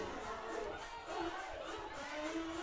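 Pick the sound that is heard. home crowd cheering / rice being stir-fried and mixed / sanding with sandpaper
home crowd cheering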